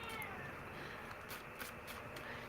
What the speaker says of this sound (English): My cat's crying at my grandchild.